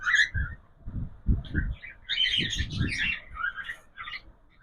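Cockatiels chirp in a breeding cage with a freshly laid egg, giving bursts of bright, close, high-pitched calls over a few seconds, with low shuffling and thumps underneath.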